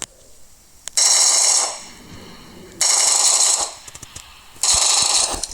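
A gun sprays in a video game, three sustained bursts of rapid automatic fire each lasting about a second, with quiet gaps and a few faint clicks between them.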